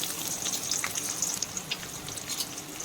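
Sliced onions and dried red chillies frying in a couple of tablespoons of hot oil, giving a close, steady crackling sizzle with scattered sharp pops, heard alone without talk.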